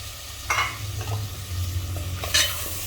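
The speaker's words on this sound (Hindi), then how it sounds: "इनको भी मिक्स कर लेंगे एक बार इस तरह से चलाकर।" Potatoes and tomatoes cooking together in a pan for a Sindhi aloo matar dish get stirred with a few scraping strokes over a low, steady sizzle, heard close with no voices.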